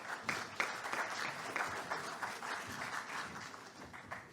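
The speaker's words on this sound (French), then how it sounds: "Vous pouvez les applaudir" Audience at a combined-transport general assembly claps steadily, a dense, sustained applause from a crowd lasting the whole stretch.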